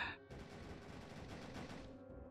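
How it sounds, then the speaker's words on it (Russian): Video-game gunfire from They Can't Stop All Of Us sounds as a faint, rapid stream of shots that rattles on for about two seconds, with no talk. "Где-то стреляют."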